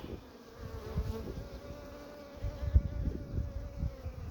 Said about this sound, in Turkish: Maşallah arılarımız çalışıyor.